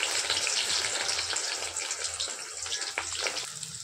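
Chopped onions fry in hot oil with bay leaf, cinnamon and cloves, giving a continuous watery sizzle and crackle with a few sharper pops, close and alone.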